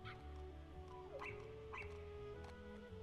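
Puppies whimpering in Kingdom Hearts, a few faint high yelps and whines rising and falling over a steady musical background, soft and distant-sounding.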